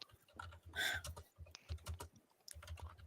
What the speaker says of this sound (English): There he goes again, typing more.